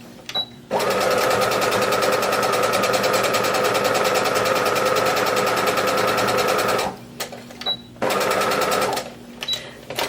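A sewing machine runs steadily, stitching fabric in one long continuous burst of whirring, then stops and restarts in short spurts near the end, loud and close.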